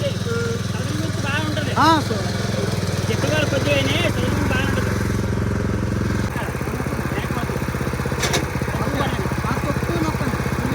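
Power weeder engine running in a farm field, a steady close motor drone that shifts to a rougher, lower rhythmic chug partway through, with people talking over it.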